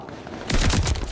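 Rapid gunfire in the video game Call of Duty Vanguard erupts midway, a loud burst of repeated shots with booming low thuds after a quieter start.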